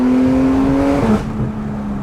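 A Porsche GT3 RS with a 4.5L engine accelerates hard, heard up close. A loud, sustained engine note holds steady, then briefly dips as if through a gear change before carrying on.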